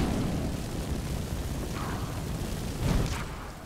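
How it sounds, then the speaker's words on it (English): A fire spell blast in modded Skyrim, a roaring, rumbling burst that swells and crackles, rising to a louder whoosh near the end over steady background noise. "That's right, I have fire at my disposal."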